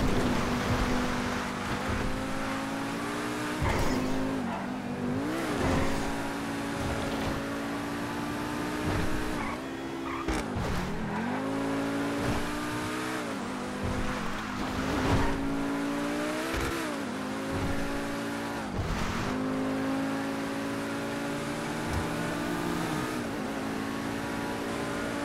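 A battered, damaged car in GTA V drives on, its engine droning and revving with rising and falling pitch, punctuated by occasional thuds and bumps, loud and continuous throughout.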